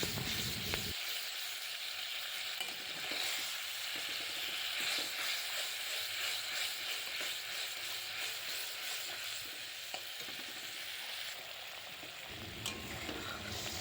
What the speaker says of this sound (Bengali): টক দই দেবার পর ভালো করে কষিয়ে নিচ্ছি আরও